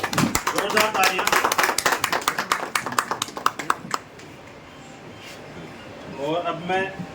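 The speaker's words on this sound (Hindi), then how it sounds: "जोरदार तालियां।" Sharp, fairly close hand clapping from an audience at a farewell ceremony for a district collector at a Sikar industries venue, a brisk burst that stops abruptly, followed by quieter talk.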